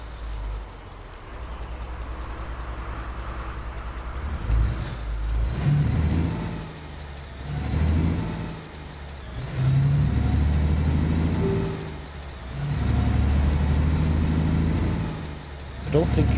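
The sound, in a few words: truck driving on road in video game Alaskan Truck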